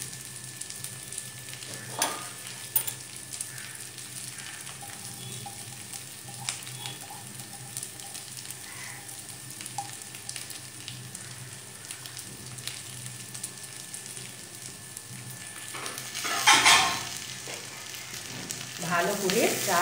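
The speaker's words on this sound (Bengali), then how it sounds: "ভালো করে চাল আর ডালকে ভেজে নেব।" Washed rice and lentils frying in oil in a wok for vegetable khichuri, with a steady low sizzle, occasional scraping stir strokes and a louder burst of sizzling and stirring near the end.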